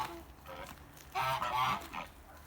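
Kholmogory geese honk in a noisy, overlapping cluster, growing louder and more insistent midway before trailing off, close by with no talk.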